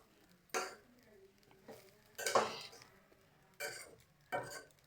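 Spoon scraping and stirring through coconut rice in a metal pot, four short scuffing bursts spaced about a second apart, close and fairly quiet with no talk.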